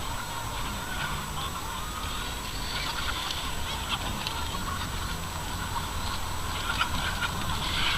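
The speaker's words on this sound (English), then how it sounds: "It's a lot of chickens." A large flock of chickens on a farm fills the air with dense, continuous clucking and squawking, steady and moderately loud throughout, with no talking.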